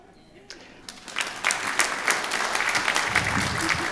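A church congregation at a Sunday service breaks into applause, starting with a few claps and swelling into steady, loud clapping from the whole room that carries on to the end.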